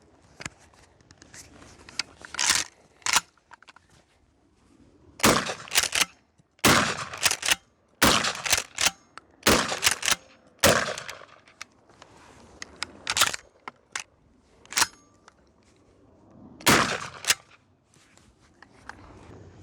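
A Mossberg 590 shotgun with an extended tube fires Fiocchi buckshot in a rapid string of loud, sharp blasts, irregularly spaced with short gaps between shots and quieter handling noise in between.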